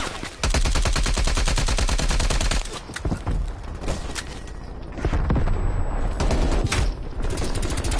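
Gunfire in Call of Duty Black Ops Cold War on PS4: loud, rapid automatic bursts that break off briefly near the middle and then resume, with no talking.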